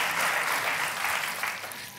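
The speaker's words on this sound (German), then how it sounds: "Können wir dafür einen kleinen Applaus haben?" Studio audience applause on a German TV cooking show, a steady dense wash of clapping that runs throughout and gradually eases off toward the end, with no voices over it.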